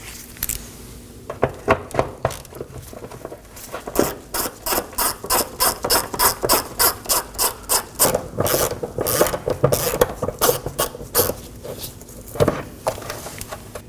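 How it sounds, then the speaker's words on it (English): A ratchet wrench loosens 10mm nuts holding the EVAP vapor canister under a 2018-2024 Chevrolet Equinox, with rapid, rhythmic clicking bursts close by, pausing and resuming, and no talking. "It is held up by three 10mm nuts. There's two on the right side. We're going to remove those first."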